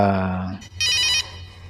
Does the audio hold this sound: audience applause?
no